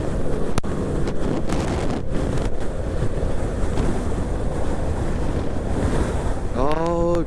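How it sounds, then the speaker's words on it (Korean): Strong wind gusts in McAllen, Texas, roaring hard against the microphone in a constant, loud buffeting rush that never lets up, while a voice briefly speaks near the end. "바람 진짜 많이 부네"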